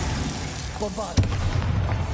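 A Bombarda spell explosion in Hogwarts Legacy bursts with one sharp, loud boom partway through, followed by a low rumbling tail over steady game ambience, with a brief voice just before the blast.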